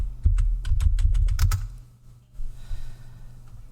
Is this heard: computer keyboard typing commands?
yes